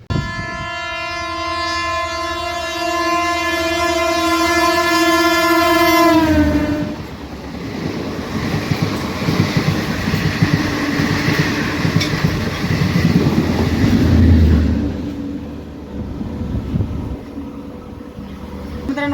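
A Parli–Sangli DEMU express train crosses at high speed, sounding a long steady horn that stops, then a loud rushing roar and rattling wheels as it passes close by, fading toward the end.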